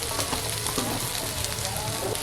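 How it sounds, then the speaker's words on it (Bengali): A dense, continuous sizzle of ginger paste, green chili paste and spices frying in oil in a pan for a sea bhola fish curry, cooked in a rural village setting; the crackle stays steady and fairly loud throughout. "মশলা ভাজা হয়ে গেছে।"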